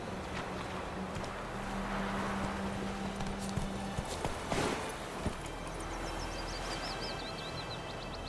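Roach, the horse in The Witcher 3, clip-clops along at a moderate pace under a wash of wind and ambient noise, with sparse, fairly soft hoofbeats.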